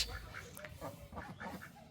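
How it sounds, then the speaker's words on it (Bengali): Quiet, soft quacks from five bathing ducks repeat a few times at a distance, faint and intermittent over a low background. "ওই যে হাঁসে গোসল দিতেছে আরে পাঁচটা হাঁস"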